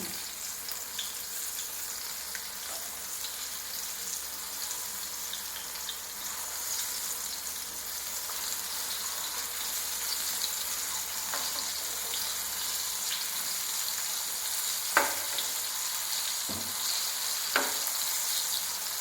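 Ripe jackfruit pieces fry in hot oil with a steady, soft sizzle and bubbling that lasts throughout, with a few sharper pops and clinks near the end.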